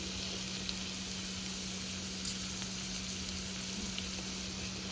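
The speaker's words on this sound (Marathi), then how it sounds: "आपण आता कांदा व्यवस्थित परतून घेणार आहोत" Onion sautés in a pan with turmeric and red chilli powder, giving a faint, steady sizzle with a constant low electrical hum beneath. A few soft clicks sound and there is no talk.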